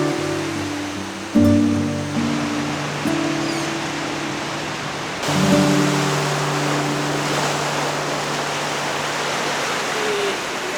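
Broad, steady wash of sea surf with a soft rise partway through, low tonal hum underneath, no voices.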